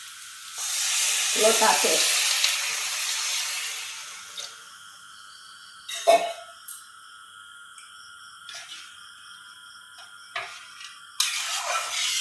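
Water is poured into a hot pan while cooking kochur loti (taro stolons), giving a loud hissing sizzle that fades over a few seconds, followed by quieter scattered clinks and ticks, with a brief spoken word.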